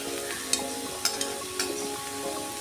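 Onions frying with whole spices such as cloves in hot oil for a baby corn capsicum masala curry: a steady crackling sizzle with several distinct stirring knocks and pops, close and moderately loud, no talk.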